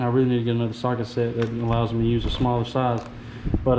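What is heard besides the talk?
No everyday noises stand out.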